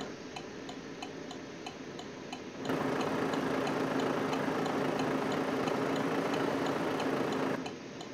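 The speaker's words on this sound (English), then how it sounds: "This actually may be a default engine for this Volvo." A Volvo truck engine idles steadily in American Truck Simulator, a constant low rumble overlaid by a regular ticking; the sound swells louder midway for several seconds, then drops back to the quieter level.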